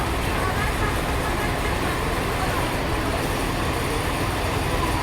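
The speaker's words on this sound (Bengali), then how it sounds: "আমাদের ট্রেনটি খুলনার দৌলতপুর স্টেশনে তিন মিনিট যাত্রা বিরতি করে এখন ছেড়ে দিল" The Mahananda commuter train, running Khulna to Jessore, pulls out of Daulatpur station in Khulna after a three-minute halt, a steady loud rumble and clatter of rolling carriages heard from inside the train, continuing evenly.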